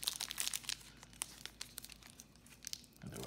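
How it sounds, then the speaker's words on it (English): A football trading card pack wrapper is torn open by hand, giving close, busy crinkling and ripping of foil plastic over about three seconds. "let's see if we can open this without the help of scissors"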